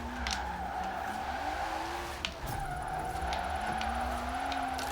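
Front-wheel drive Volvo drifting in Forza Horizon 4, a steady engine drone with continuous tire squeal as the car holds a slide, a brief thump midway, without talk.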